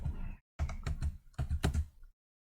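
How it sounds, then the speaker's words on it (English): Keys clatter on a computer keyboard during spreadsheet data entry: a short burst of taps, a brief pause, then two longer dense runs of typing, close and fairly quiet. "after deleting, you type in keyboard"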